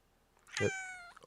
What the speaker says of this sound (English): You're a good kitty.